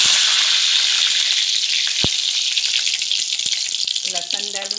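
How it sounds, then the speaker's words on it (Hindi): Curry leaves drop into hot oil over a low flame and sizzle loudly and continuously. A sharp clink cuts in partway through, and a brief voice-like tone sounds near the end. "अब मैं धीमी आंच करके इसमें कड़ी पत्ता डालूँगी"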